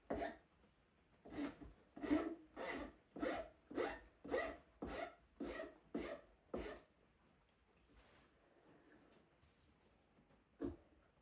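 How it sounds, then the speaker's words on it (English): A rasp shaping a wooden hand plane handle, about ten rhythmic rough scraping strokes in a steady back-and-forth cadence, close and clear, then a pause with faint handling noise and one last stroke. "Rasps are great for shaping like this as they're far more aggressive than sandpaper"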